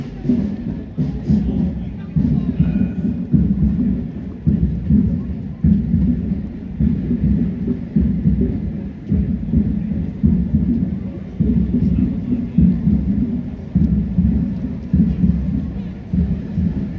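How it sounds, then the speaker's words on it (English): Steady rain with a low rumbling wash underneath, a continuous dense patter throughout, with no clear pauses. "It's raining"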